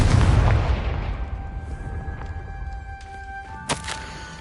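A Confringo spell explosion in the Hogwarts Legacy video game sets off a deep, loud boom that rolls and decays over several seconds. A sharper crack and faint tonal game effects follow near the end.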